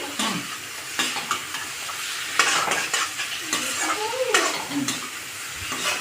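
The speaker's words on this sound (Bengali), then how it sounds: "ধনে গুঁড়ো, চিকেন মশলা, আর এটা জিরে গুঁড়ো। ভালো করে একটু ভেজে নেব।" Coriander, chicken masala and cumin powder fry in a pan as they are stirred, with a busy sizzle under irregular metal scrapes and clinks of the spoon against the pot.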